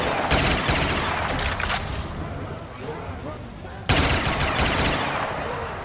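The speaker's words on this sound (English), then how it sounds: "This AK-47 there is pretty solid." An AK-47 fires in Black Ops 3 Custom Zombies, with loud, rapid automatic bursts that ring out twice, each followed by a decaying echo.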